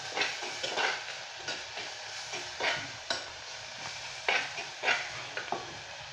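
Ginger and garlic sizzle in a pan for a Kerala prawn fry while a spoon stirs them, scraping and clinking against the metal in repeated bursts over a steady background fry.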